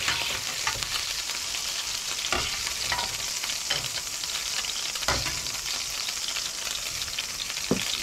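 Seafood sautéing in hot oil in a pan for a seafood rice dish, a steady close sizzle and crackle with occasional stirring clatter, no talking.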